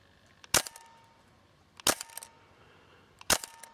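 Tippmann M4 airsoft rifle fitted with a Guarder 602 spring and stock hop-up, firing three sharp single shots at spaced intervals, each a crisp, close crack with a short rattling tail over a quiet background.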